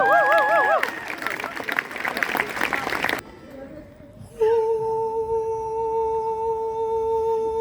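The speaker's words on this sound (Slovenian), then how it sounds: "dajmo en velik aplavz za spodbudo" Applause and cheering from an audience at a live concert in Stare Velenje, a dense burst of clapping for a few seconds that cuts off, followed by a steady sustained tone.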